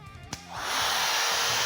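A Milwaukee single-speed drywall cutout tool, rated at about 28,000 RPM, switches on with a click and spins up into a steady, loud high-pitched whine that holds to the end.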